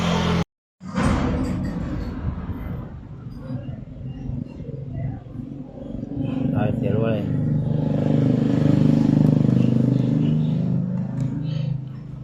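A Honda Click 110i motorcycle with low compression is cranked and struggles to run, with uneven engine sputters and revving that swell toward the end. Someone talks over much of it.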